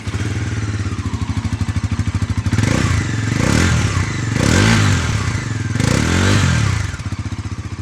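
Bajaj Pulsar NS 400 Z motorcycle with an underbelly exhaust, idling with a steady pulsing putter, then revved hard three times in rising, swelling bursts that fall back to idle, loud and close.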